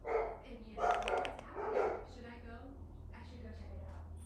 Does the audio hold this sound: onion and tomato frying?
no